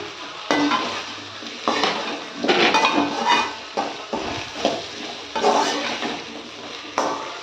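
Yam and drumstick pieces sizzle and fry in hot oil in a pan for a dried-fish curry, with a utensil repeatedly stirring and scraping against the metal in close, uneven bursts; no one speaks.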